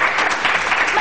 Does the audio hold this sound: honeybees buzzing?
no